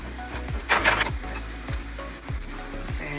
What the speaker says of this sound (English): And then we're sauteing the onions.